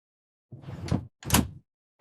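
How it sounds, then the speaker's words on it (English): A household door is pushed shut in two distinct movements, a short slide or swing followed by a firmer closing thud, close and clear in an otherwise quiet room. "I close the door."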